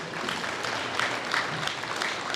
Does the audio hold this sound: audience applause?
yes